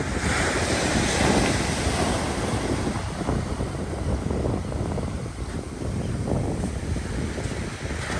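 Ocean surf breaking and washing up a beach while fishing from the shore, a continuous close roar of waves mixed with gusty wind buffeting the microphone, with no voices.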